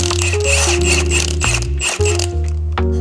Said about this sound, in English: we're just removing the jam nut completely